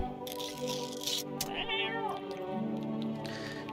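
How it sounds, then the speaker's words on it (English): A cat meows in the video game No I'm Not A Human, a few rising and falling mewing calls heard clearly over a steady background game soundscape with no talking. "What's up, kitty? Let me feed you."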